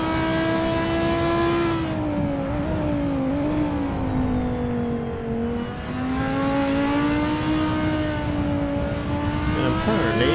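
A GT3 race car in a sim racing game drives steadily on track, its loud engine holding a high, gently shifting pitch that dips briefly and then climbs again, with no talk over it.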